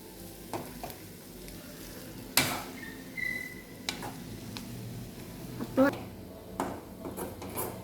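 Egg fry sautéing in oil in a home kitchen pan, a low steady sizzle with scattered spoon scrapes and clinks of stirring, fairly quiet, with faint voices in the background.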